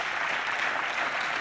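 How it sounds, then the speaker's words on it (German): Delegates at a Die Linke European party convention applauding, a brief, dense and steady burst of clapping filling the hall with no speech over it. "Applaus"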